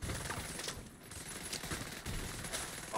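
Rapid turret gunfire rattles steadily in The Division 2, a dense, continuous spray of shots at moderate distance with a brief dip partway through.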